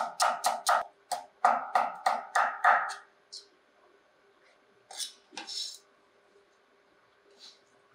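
A knife cuts thin slices of onion on a cutting board while preparing Chinese noodle soup, giving a quick run of about ten crisp, close chops over three seconds, followed by a few scattered, fainter knocks.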